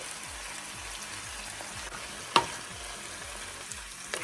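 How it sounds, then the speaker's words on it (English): Cabbage and onions sauté in a pan until crisp-tender, giving a steady close sizzle and frying crackle with occasional stirring clicks and one sharp utensil tap, no talking. "We're basically sauteing this now at this point until everything is crisp tender."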